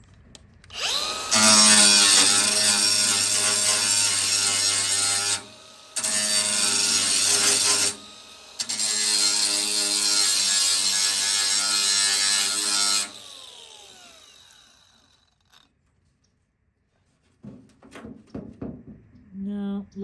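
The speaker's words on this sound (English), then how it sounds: "maybe it's got a spot weld here, so I might just try to grind it out and maybe it'll pop right off" A grinder works a spot weld out of metal in three long, loud, harsh bursts separated by short pauses. Near silence follows, then a voice briefly talks at the end.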